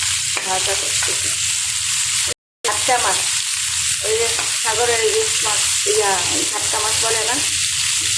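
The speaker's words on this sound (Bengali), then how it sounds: "আমাদের দেশে এই মাছ এইগুলো তরকারিটা নাড়াচাড়া করে দিচ্ছি" Fish curry stirred in a pan, giving a constant loud sizzle with soft scraping, while a voice talks over it and the sound cuts out briefly partway through.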